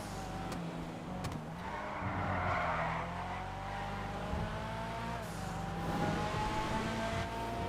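An Annis Hardy, a 6th-generation Nissan Laurel, skids in GTA Online, its engine droning and revving while tires squeal in drawn-out bursts, fairly faint and steady with no talking.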